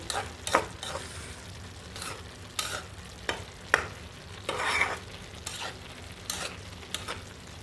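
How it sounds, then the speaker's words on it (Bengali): Snake gourd and potato stir-fry in a fairly large pot over a low gas flame, with a soft continuous sizzle broken by regular scraping stirs every second or so. "চিচিঙ্গার সাথে আলু দিয়ে ভাজি করতেছি।"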